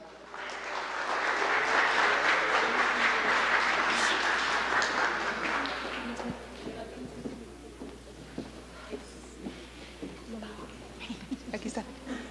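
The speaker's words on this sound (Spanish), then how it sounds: "Les damos un fuerte aplauso." An audience at a Spanish-language talk on women's spirituality, service and leadership bursts into loud applause for several seconds, then fades to scattered claps and murmuring under a voice.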